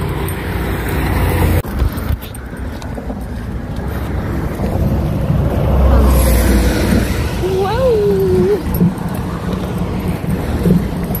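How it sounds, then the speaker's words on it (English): Road traffic passing beside a hiking trail on the Appalachian Trail in Georgia, a steady low rumble with wind buffeting the microphone, and a brief engine-like whine rising partway through. "Road noise."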